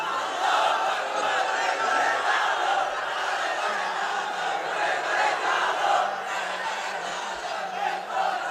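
A crowd at an Islamic religious gathering in Bangladesh chants slogans together, a dense, steady roar of many voices carrying on continuously throughout.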